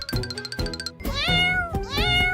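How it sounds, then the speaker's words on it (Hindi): Cartoon cat meowing, several loud, close, drawn-out mews in quick succession, rising and falling in pitch, with a faint jingle beneath and no talking. "चलो बिल्ली और उसके बच्चों को बाहर निकालते हैं"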